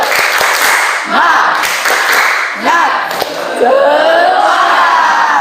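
Rhythmic group clapping of a cheer by students in a classroom, several short bursts of claps in a pattern with voices shouting along between them.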